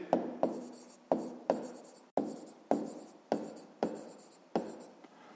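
Pen or pencil writing numerals by hand on paper, a run of about nine short scratchy strokes in a steady rhythm, close and clear with no voices.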